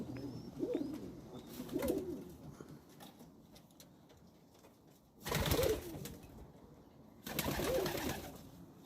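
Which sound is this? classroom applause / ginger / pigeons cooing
pigeons cooing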